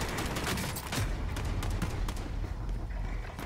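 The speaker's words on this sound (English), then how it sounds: "Where am I getting shot from?" Rapid bursts of video game gunfire crackle densely throughout, loud and continuous, with overlapping shots and automatic fire in a chaotic firefight.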